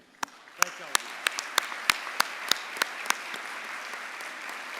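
Audience applause fills a Hall of Fame gala hall, steady clapping at moderate distance with a few sharper claps standing out, tapering slightly toward the end.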